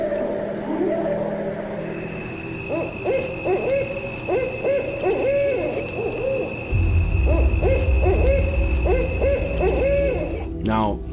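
An owl hoots in repeated short, tonal calls from a recording, steady and evenly paced over a faint background hum that grows louder partway through.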